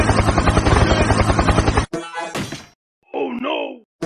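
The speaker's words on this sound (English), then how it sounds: "Helicopter, helicopter." A cartoon helicopter's rapid, loud rotor chop in fast regular pulses for about two seconds, then cut off by thumps and groaning cartoon voices with brief silences between.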